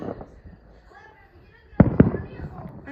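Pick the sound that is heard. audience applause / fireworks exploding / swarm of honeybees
fireworks exploding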